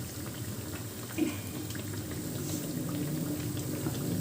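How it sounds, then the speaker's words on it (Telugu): Soft, continuous bubbling hiss of corn burelu frying in hot oil, faint and steady with small pops scattered throughout, no talking. "కొంచెం కలర్ రానివ్వనండి అప్పుడే మంచిగా లోపల వేగుతాయి"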